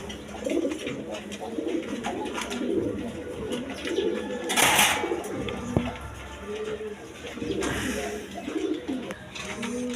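Domestic pigeons at a pigeon seller's coop coo in soft, repeated throaty calls throughout, with a brief burst of flutter or rustle midway and low background murmur.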